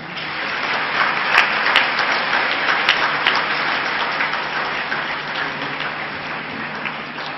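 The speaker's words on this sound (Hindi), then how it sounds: "बहुत जोरदार तालियां।" Loud, sustained applause from an awards ceremony audience in India, dense steady clapping that fills the whole stretch with no pauses.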